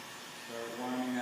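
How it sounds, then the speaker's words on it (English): A heat gun blows hot air onto the underside of 3M Crystalline window tint film during a heat-shrink job, a steady rising airflow hiss that grows louder over about a second, with faint talk in the background. "I'm going to go ahead and start blowing from the underside of the film."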